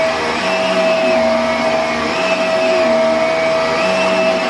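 A hoover runs over carpet to clean up dog hair. It drones loud and close, with a steady motor whine whose pitch dips and rises as it is pushed back and forth.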